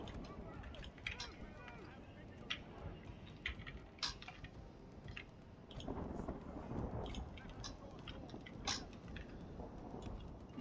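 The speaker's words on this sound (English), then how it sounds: "Nice thunder sounds at the moment in this one." Thunder rumbles through a Third Age Total War battle between Rohan and Dunland forces, a low continuous roll swelling louder midway, mixed with rain-like wash and battle noise under a voice.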